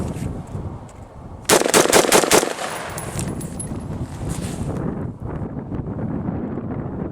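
Five quick rifle shots in extreme cold crack out close and loud in a tight burst, then give way to steady wind rumble against the microphone.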